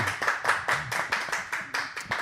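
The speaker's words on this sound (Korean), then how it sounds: "박수." Small group clapping in a quick uneven rhythm at a Korean panel talk, close and moderately loud, about a dozen bursts over two seconds with no voices.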